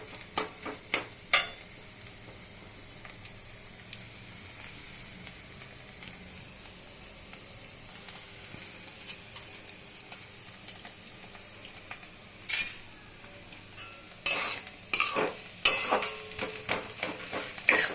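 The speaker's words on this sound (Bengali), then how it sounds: "আর একটু সময় একদম এটাকে ফ্রাই করতে হবে ভালো করে।" Cauliflower and egg bhujia fries in a pan with a low steady sizzle, broken by bursts of spatula scraping and stirring, the clatter loudest and most frequent in the final seconds.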